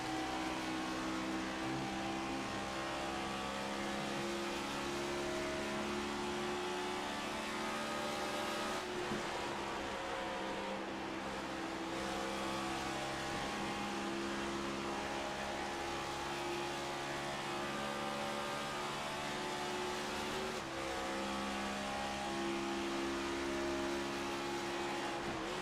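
Stock race cars in iRacing at Texas drone at speed in a steady engine roar, with shifting tones as the pack jostles together down the back straight, sustained and continuous throughout.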